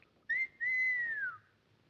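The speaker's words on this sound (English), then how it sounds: "Let me hear you whistle." A single person whistles a short two-part tune, a brief note followed by a longer sustained one that slides downward at the end, clear and close against a quiet background.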